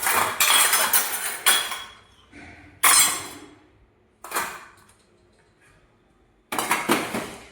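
Kitchen utensils, cutlery and dishes are arranged and put away in a household, giving several loud bursts of clinking and clattering metal with short pauses between them and no talking.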